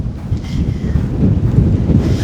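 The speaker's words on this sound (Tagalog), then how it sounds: "Sobrang lakas ng hangin pa." Strong wind buffeting close to the microphone, a gusty low rumble that rises and falls for a couple of seconds.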